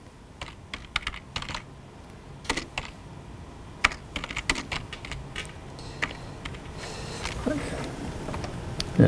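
Typing on a computer keyboard during a programming lecture, irregular clicky keystrokes in quick bursts with brief pauses, fairly close and moderately loud.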